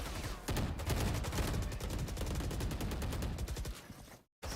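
Rifle gunfire in a competitive college esports match, Carleton vs UCSD, comes as dense, rapid bursts of shots that run almost continuously, loud and close, then cut off abruptly near the end.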